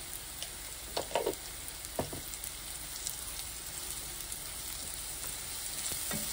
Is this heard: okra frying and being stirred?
yes